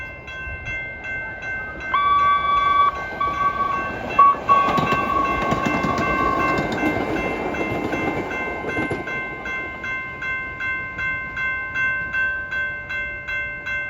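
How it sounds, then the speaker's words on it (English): A CTA holiday train rolls westbound past a Chicago crossing, its steady rumble and rhythmic clickety-clack of wheels on rail joints carrying on for the whole span, with a high bell-like tone ringing at the start. "We see it heading westbound for Dempster Skokie"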